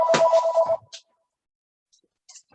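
A phone ringtone for an incoming call sounds as a single bright electronic trill lasting under a second, loud and close, followed by near silence with a couple of faint brief blips.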